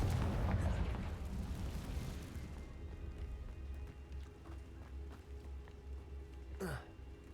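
A Confringo blasting spell goes off in Hogwarts Legacy as a loud, broad rumbling blast right at the start, slowly fading into a low drone, with a brief sharp swish near the end.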